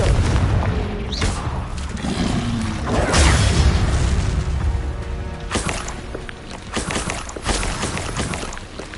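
Confringo blasting spell explosions in the video game Hogwarts Legacy, loud booming blasts and crackling impacts layered over a dense rumbling game soundtrack, continuous and heavy throughout.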